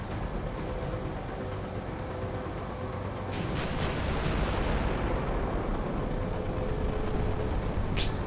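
Carrier Command weapons firing at enemy targets, a steady rumbling roar of distant artillery-like booms and blasts under continuous noise, with a sharp crack near the end.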